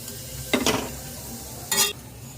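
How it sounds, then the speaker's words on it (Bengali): Chopped garlic frying on a low flame, a steady faint sizzle broken by two short bursts of stirring scrapes against the pan, close by. "লো ফ্লেমে রসুন ভেজে তুলে নেব"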